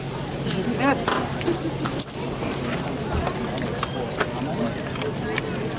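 Budweiser Clydesdale horse hooves clip-clop steadily on a hard surface at Saratoga Springs, New York, pulling an original 1903 Studebaker wagon, while someone talks over them, with faint jingling harness in the background.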